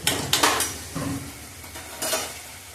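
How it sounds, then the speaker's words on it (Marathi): Washed lentils (dal) tipped into a cooking pot, with a few sharp metallic clinks of a utensil against the pot and a soft sizzling rush as the lentils land, close and alone with no talking. "आता मी डाळ टाकते ह्याच्यामध्ये."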